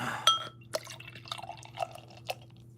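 A drink is poured into a glass close by, with irregular drips, splashes and fizzing bubbles, and no speech.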